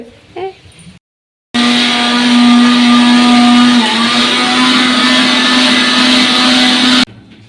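A kitchen blender grinds coconut into paste for coconut milk, a loud steady high whine that starts after a brief pause and runs continuously for about five seconds before cutting off, with faint sounds before it.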